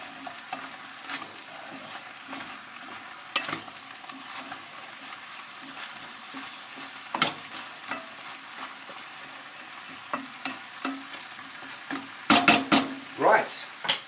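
Parsnips and carrots frying in a pan for Cumbrian tatty pot, a constant soft sizzle broken by repeated sharp scrapes and clanks of a utensil stirring, a burst of rapid knocks near the end.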